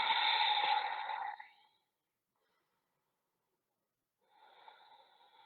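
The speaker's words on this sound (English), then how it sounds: "Three more breaths." Deep breathing during a yoga practice, heard close and moderately loud. One long breath fades out, a silent pause follows, and a softer breath begins near the end.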